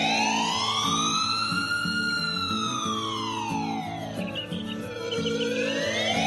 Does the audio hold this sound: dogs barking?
no